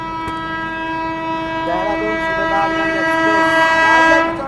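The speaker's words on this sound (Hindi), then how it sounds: "देख लाते हैं भाई यहाँ से आपको देहरादून एक्सप्रेस का ओवरटेक" Dehradun Express train passing on the main line, its long steady horn blast sustained throughout with rumbling wheels beneath, close and loud, swelling toward the end before fading.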